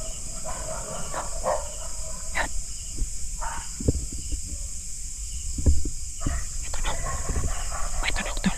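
Dogs bark and yelp intermittently in the distance, several scattered calls over a windy, noisy background with some voices.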